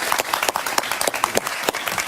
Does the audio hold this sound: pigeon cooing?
no